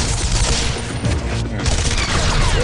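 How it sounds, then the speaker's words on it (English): Rapid SMG fire in Fortnite, a dense, loud continuous burst of shots with game noise underneath, sustained through the whole moment with a brief dip midway. "That's an SMG."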